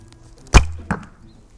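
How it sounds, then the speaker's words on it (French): An arrow shot from a bow at about 20 metres thuds sharply into a target, followed by a second, softer impact a moment later, close and loud in an otherwise quiet space. "La flèche est partie tellement moins fort."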